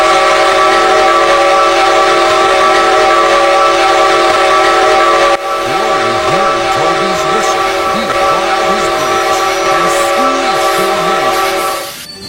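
A steam train whistle sounds loud and sustained as a steady, tonal blast throughout, with wavering tones and rumbling underneath in the second half before it fades slightly at the end.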